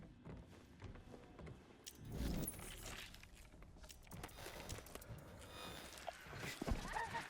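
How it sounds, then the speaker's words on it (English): Horse hooves clop and a horse gives a brief whinny in the video game Red Dead Redemption 2, with scattered hoof thuds and other game sounds beneath a muffled voice. "See about some horses? Horses? Red Dead Redemption 2."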